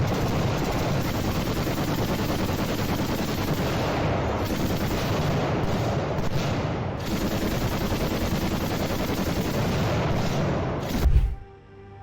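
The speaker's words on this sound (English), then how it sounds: "The sound of the weapons is shocking." Heavy weapons firing in war footage with Russian tanks, a dense, loud, continuous roar of gunfire and booms that carries on unbroken before cutting off sharply at the end.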